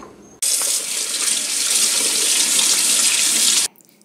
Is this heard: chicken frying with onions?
no